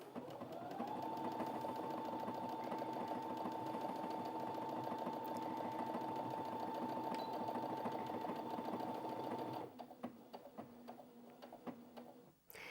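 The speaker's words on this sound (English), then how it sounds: "So let's stitch these out and I'll show you what I mean with this button" A Brother Innov-is A50 sewing machine stitching a leaf pattern, its rapid, even mechanical whirr holding steady and close for about ten seconds before stopping, followed by a few faint clicks and handling noises.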